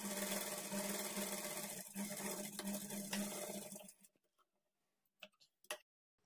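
A sewing machine stitches darts on a blouse, a close, steady run of rapid mechanical stitching for about four seconds that stops abruptly, followed by a few faint clicks and handling noises.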